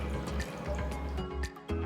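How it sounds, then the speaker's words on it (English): Water is poured into a large pot for cooking pasta, giving a soft, steady trickle with scattered drips and splashes, quiet and heard alone. "pour enough water."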